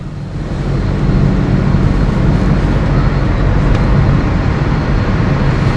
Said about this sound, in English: Let's go for a test drive.